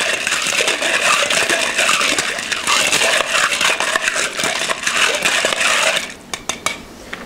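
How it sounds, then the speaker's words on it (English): A bar spoon stirs a cocktail with basil oil infused into it, giving a loud, busy metallic clinking and rattling of ice against the glass that continues steadily, then thins into a few scattered clinks at the end. "So give it a good stir."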